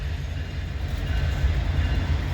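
A CPKC freight train passes the Adelaide St crossing in London, Ontario, a steady close rumble of rolling wagons with a low heavy roar throughout and no talk.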